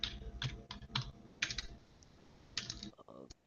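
Fingers tap steadily on a computer keyboard in bursts of clicking keystrokes, close and fairly loud, with brief pauses between runs and no talking.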